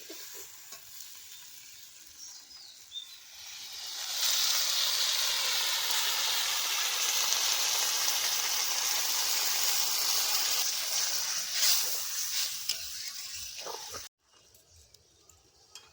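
Water poured into a pan of young jackfruit and mutton liver curry sets off a loud, steady sizzle and hiss that lasts about ten seconds before cutting off, with softer stirring and frying sounds before it.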